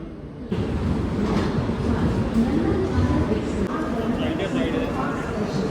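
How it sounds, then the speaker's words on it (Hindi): A train rolls into a station with a loud, steady rumble and rattle of wagons after a brief quieter moment, and a voice speaks over the noise. "फ्रेंड्स हमारी ट्रेन जो है वो आ गई है"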